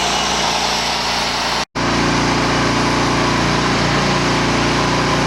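Corded drill driving screws into trailer decking, a loud steady high motor whine held close, broken by one brief cutoff near the start before resuming continuously.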